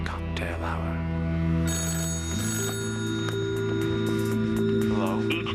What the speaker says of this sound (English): Each time the phone rings